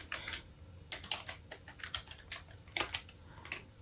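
Fingers type on a computer keyboard in quick, uneven bursts of close key clicks with short pauses between runs. Nothing else is heard, no talk.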